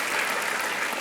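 Brief burst of audience applause at a celebration honouring actor Mohanlal, a dense clapping wash that stays steady and fairly loud for about a second.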